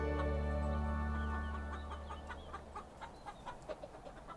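Farm chickens clucking, a run of short rhythmic clucks rising over a steady low hum in the second half, close and moderately loud with no talking.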